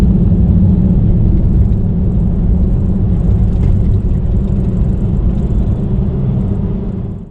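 Loud, steady low-frequency drone and hum of BF Goodrich KM3 tyres rolling on the road while driving, constant throughout and fading slightly at the end, with no talking.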